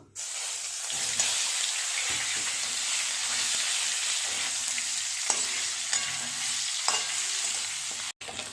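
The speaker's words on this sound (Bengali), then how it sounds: "আলুগুলো একটু হালকা করে ভাজা করে নেব" Potatoes sizzling steadily in oil with occasional scraping stirs and clinks, close up and continuous.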